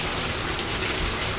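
Rain falling hard at night, a dense, loud, steady hiss of water with no gaps and no voices.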